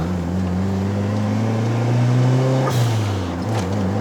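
A 1996 Mitsubishi Lancer Evolution VI converted from a Lancer revs under throttle during a test drive in Malaysia, its engine tone rising steadily and droning loud and close before dropping back.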